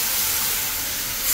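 Half a litre of cow's milk poured over sautéed carrots in a hot pan for carrot payasam sends up a loud, continuous close hiss and sizzle that lasts throughout.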